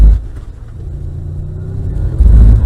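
A Mercedes-Benz car engine revs under a throttle blip during a skid on a track, a low rumbling drone that swells louder toward the end, close and without talk.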